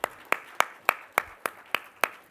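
A single person claps slowly and evenly, eight sharp, close claps at a measured rhythm, at a business conference gathering; no talk is heard.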